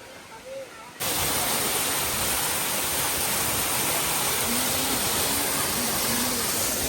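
A waterfall near a fort, swollen by recent rains, pours in a loud, steady, broadband rush that bursts in after a brief quieter moment and holds evenly to the end.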